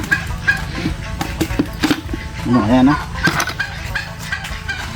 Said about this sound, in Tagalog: Papakain natin sa alaga nating bibi, tsaka sa mga pabo, manok.